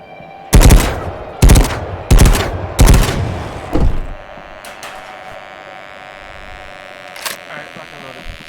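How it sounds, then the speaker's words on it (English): Gunfire in the video game Madness Project Nexus: four loud, sharp shots at a steady pace, then fainter scattered pops over a droning background. "Oh wait, I have to shoot this thing."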